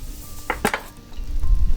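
A lid set onto a pan holding buttered soufflé toast, with egg-soaked bread cooking over low heat: a few sharp metallic clinks close up, then a low rumble.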